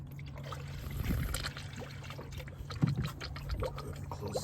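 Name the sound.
coolant gurgling and bubbling air out of car radiator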